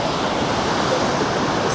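Sea waves breaking steadily on the beach at Vizag, a continuous broadband wash of surf with wind noise, loud and unbroken, with no talk.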